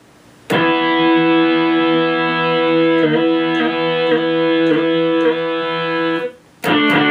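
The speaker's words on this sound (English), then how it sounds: "And after that we have a distortion guitar." Distorted guitar tone from a YRG Gen2 LE rings out as one long sustained chord with a few repeated re-strikes, loud and close, followed by a fresh attack at the end.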